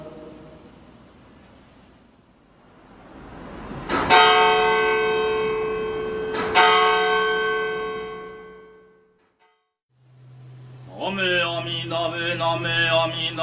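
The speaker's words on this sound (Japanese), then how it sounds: "広島からこの世界平和記念聖堂の鐘の音をお届けします" The bell of the World Peace Memorial Cathedral in Hiroshima tolls two resonant strikes a few seconds apart, each ringing out and slowly decaying, followed by a different sustained tonal sound near the end.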